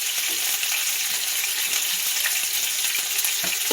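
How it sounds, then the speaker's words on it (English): Steady, dense sizzling of chicken frying in a hot pan, with crackles and pops throughout and no talking. "I'm going to fry these for about 5 minutes on each side."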